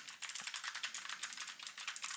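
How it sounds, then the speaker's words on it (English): Fast, even typing on a computer keyboard, close by, with a quick run of crisp clicks and no talking. "You can hear how the keyboard sounds."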